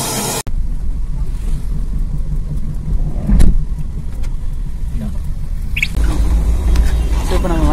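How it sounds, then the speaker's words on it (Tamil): A vehicle engine runs after a switch repair in which the contact was cleaned with emery, on a trip to Nagapattinam during a cyclone. A sharp click comes first, then a close, steady low rumble with faint outdoor noise. "ஃபைனலி வண்டி ஸ்டார்ட் ஆகிடுச்சு."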